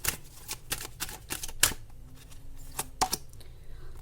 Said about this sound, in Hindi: अब मैं आपके लिए कार्ड्स निकालती हूँ